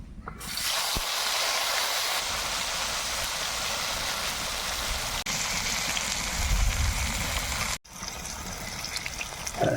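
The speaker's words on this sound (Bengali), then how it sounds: "তেল গরম হয়ে গেছে এবার ভেন্ডিগুলোকে তেলের উপরে ছেড়ে দেবো" Okra frying in hot mustard oil gives off a loud, steady sizzling hiss that barely changes and continues throughout, with a short break near the end.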